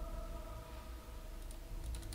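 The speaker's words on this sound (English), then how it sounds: "That's the sound of me rapidly clicking." Rapid computer mouse clicking while playing Dragon Age Origins comes as a short burst of faint, quick clicks near the end, over a steady backdrop of game sound.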